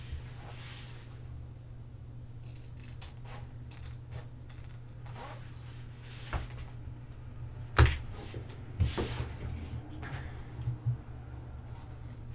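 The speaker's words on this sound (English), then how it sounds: "grab some scissors and we're just going to cut that out" Scissors snip through fabric while a placemat is cut into a tote pouch, giving quiet, scattered cutting sounds over a steady low hum, with a few sharper snips near the end.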